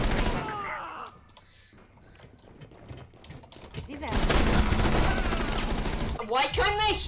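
Gunfire in the shooter game Rainbow Six Siege, with bursts of rapid shots and loud sustained firing mixed with voices and shouting players.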